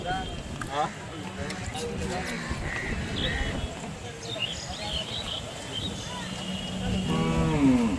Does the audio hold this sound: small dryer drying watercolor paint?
no